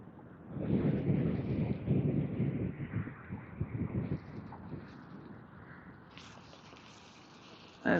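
Wind buffets the microphone on a bream fishing boat near Ballina, a low, gusty rumble that swells and fades for the first few seconds, then eases to a quieter hiss before a sudden thump at the end.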